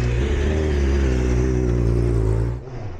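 A superbike racing motorcycle on track at the Andalucia circuit holds a loud, steady high-revving engine drone close by, then drops off sharply near the end.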